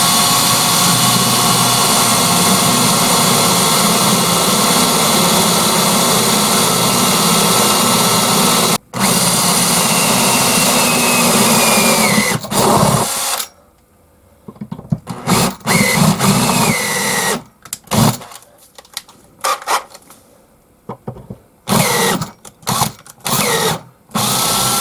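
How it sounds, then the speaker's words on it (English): A power drill bores a hole into a metal shaft boss, whining loudly and steadily for about thirteen seconds, then starting and stopping in short bursts with silent gaps between. "Now what I've got to do is drill it straight and even."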